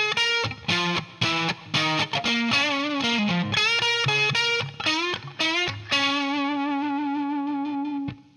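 Distorted electric guitar plays a riff followed by a bit of the melody, with effects, choppy phrases giving way to a long sustained note near the end, solo and up close.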